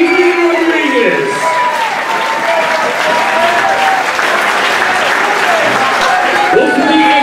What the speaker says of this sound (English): How about another big round of applause for our two combatants, Shane Young and Adrian Rodriguez?